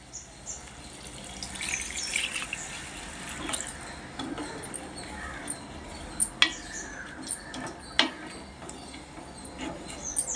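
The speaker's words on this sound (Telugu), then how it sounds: "నీళ్ళు వేద్దాం ఫ్రెండ్స్" Water pours into a pot of raw prawn and green mango curry with a soft, continuous splashing trickle, punctuated by a few sharp clinks and taps nearby.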